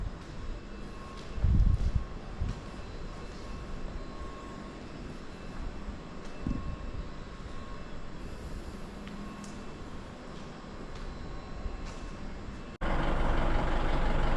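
Heavy vehicle rumble from a new Isuzu V-Cross 4x4 pickup pulling away after delivery, a steady drone with a few low thumps early on and a louder surge of engine noise near the end.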